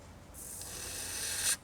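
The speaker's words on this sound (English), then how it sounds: "So we're going to go ahead and spray directly right here." Stain remover sprayed from a trigger bottle onto a car's carpet, one sustained hissing spray burst lasting over a second that ends abruptly, close and fairly quiet.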